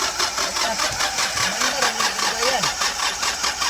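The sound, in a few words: Hyundai Porter II D4CB diesel engine starting during injector test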